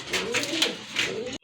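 A pigeon from a mixed pet flock coos close by, soft throaty warbling notes in a short rhythmic series, with other bird sounds around it.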